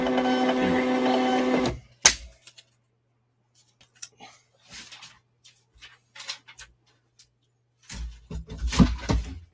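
A printer producing a shipping label: a steady mechanical whir for the first two seconds ends with a sharp click, followed by scattered taps and rustles of handling, then a burst of paper and packing noise near the end.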